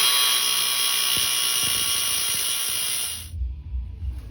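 An angle grinder cuts slits into a metal tool box with a loud, steady high-pitched whine, then abruptly stops and leaves quiet handling noise.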